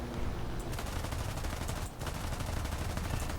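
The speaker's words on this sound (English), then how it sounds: "Dumped way more bullets than I needed to into him" Machine-gun fire from an aircraft in the War Thunder combat game, a sustained loud rattling burst that runs almost without a break through the clip and is heard alone.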